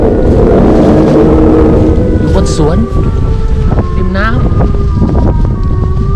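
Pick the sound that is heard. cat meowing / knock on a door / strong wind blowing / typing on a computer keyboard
strong wind blowing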